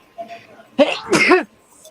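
A single sharp sneeze bursts out near the microphone, a quick two-part explosive burst after a short breath, with faint voices murmuring before it.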